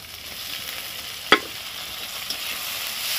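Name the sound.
tomatoes frying with onion, green chili and ginger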